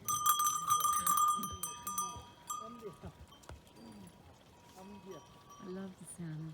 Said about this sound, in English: I love the snorting and the bells